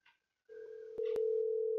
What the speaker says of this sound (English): You can hear the ring.